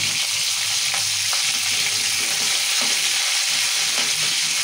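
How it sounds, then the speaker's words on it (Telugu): Chillies and curry leaves frying in hot oil give a loud, dense, continuous sizzle close by, with a few faint stirring taps underneath and no voices. "మిరపకాయలు ఇక కళ్యామాకు వేస్తున్నా."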